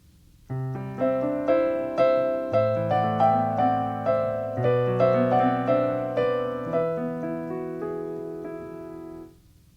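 Piano phrase in a tango rhythm, low bass notes moving in groups of four against quicker triplets above, steady and moderately loud with no voices.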